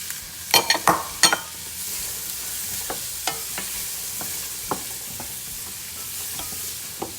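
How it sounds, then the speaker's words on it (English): Onion and celery sauteing in shimmering oil for chili and beans, with a few loud stirring scrapes early on, then a steady soft sizzle broken by sparse pops and clicks, close and without talk. "We're gonna wanna cook our onion and celery until they soften and become almost translucent"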